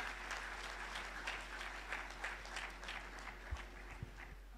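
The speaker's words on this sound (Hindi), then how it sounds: "जोरदार तालियां हो जाए संजय जी मालपानी के लिए जोरदार तालियां" An audience at a Gita talk gives loud applause for Dr. Sanjay Malpani. The clapping is faint and distant and carries on steadily, with a few sharper claps near the end.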